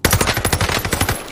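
Cooper Carbine automatic fire in the video game Warzone Pacific, a fast burst of about a dozen evenly spaced punchy shots, loud and close, heard alone.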